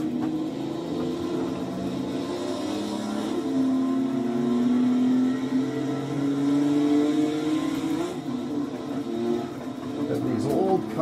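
Engine of a vintage Maserati 250F racing car in a sim racing game, a steady mid-pitched drone that rises and falls as the car slides through turns, loud and continuous with no talking.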